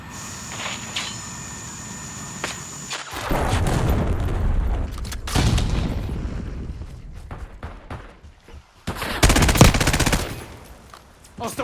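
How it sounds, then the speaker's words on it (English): Gunfire and explosions in Call of Duty: Black Ops 6, with rapid automatic bursts, sharp shots and booming blasts coming in loud uneven waves with short lulls between them. "Throwing frag."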